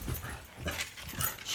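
A pet dog whimpers softly in a few short whining pulses, quiet and close, with faint panting between cries.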